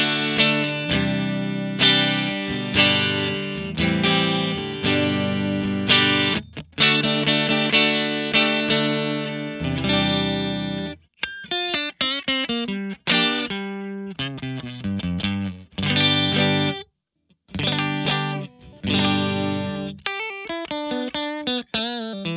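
A clean Stratocaster guitar played through a Quilter 101 Mini Reverb head and Fender cabinet with reverb off, strumming sustained chords then picking quicker single-note runs, with no voices.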